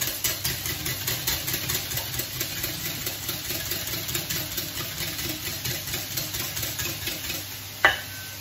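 White wine being mixed into a batter in a bowl, a fast steady rhythmic whisking that runs continuously under a faint hum and ends with a single sharp knock, close with no talking.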